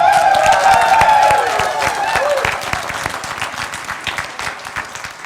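A church congregation applauds together, a dense steady wash of many hands clapping that starts loud and slowly thins out, with a few voices faintly mixed in.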